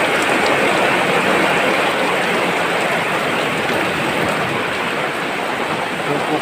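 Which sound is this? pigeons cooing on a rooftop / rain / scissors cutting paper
rain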